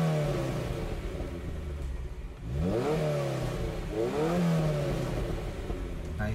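A Ferrari 308 GTB engine in Gran Turismo 7 drones steadily, then revs up in two rising sweeps that drop back, heard alone without talk.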